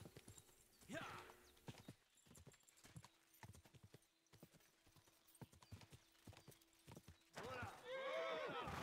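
Video game sound from Kingdom Come: Deliverance II: steady clip-clop of horse hooves at a trotting rhythm, with a horse whinnying loudly near the start and again at the end.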